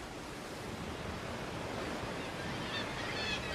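Cold Pacific Ocean waves break against the Atacama Desert coast, making a faint, steady hiss of surf that washes on without pause.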